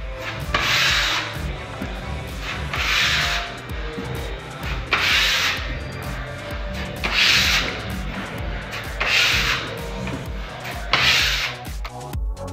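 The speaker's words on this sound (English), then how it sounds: "Puttying holes in the wall." A putty knife spreads filler over nail holes in a wall, making close, rhythmic scraping strokes that repeat every couple of seconds.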